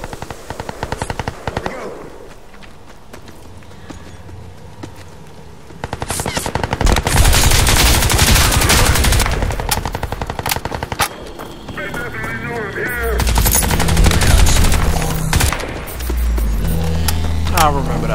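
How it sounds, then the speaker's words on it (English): Heavy automatic gunfire from a Crysis 2 multiplayer match, with long, loud rattling bursts and scattered shots that swell and fade over the stretch, mixed with other battle noise and a player's voice talking over it. "I thought I heard somebody else shooting."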